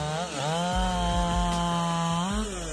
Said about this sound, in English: this chainsaw cuts through towering oak trees like a hot knife through butter